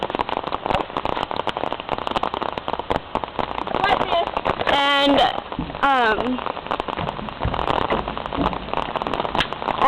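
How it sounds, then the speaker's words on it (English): Steady rain falls outside, a dense pattering wash that lasts throughout, with people talking over it and a few sharper drop-like hits near the middle. "It is raining outside. Like, kind of bad."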